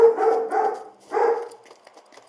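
A pet dog named Commodore gives a few quick yips and barks close by, three short bursts over about two seconds followed by fainter scattered sounds, with no talking.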